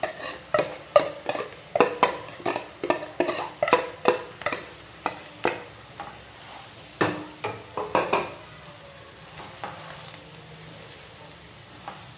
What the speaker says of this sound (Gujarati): અહીંયા આપણે ડુંગળી ચડી ગઈ મસાલા બધું નાખી દઉં